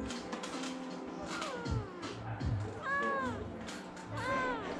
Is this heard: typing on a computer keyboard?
no